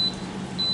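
A Quick Cooker electric pressure cooker beeps as its sear setting starts, two short high electronic tones at the start and end, alone over a low appliance hum.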